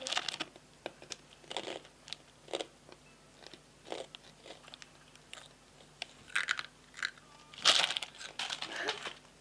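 Someone chews bread and sausage up close, with a steady series of soft bites and moist crunchy chewing and no talking.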